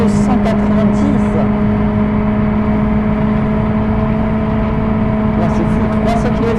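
Steady high-revving car engine at around 300 km/h in the BeamNG.drive driving game, a loud continuous drone with a fixed strong pitch and a damaged, troubled motor, holding constant throughout with faint higher hiss at the start and end.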